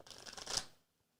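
A deck of playing cards is riffled in a quick, dense shuffle lasting under a second, building to a sharp close-up snap at the end before falling silent.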